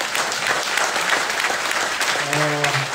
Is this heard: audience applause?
yes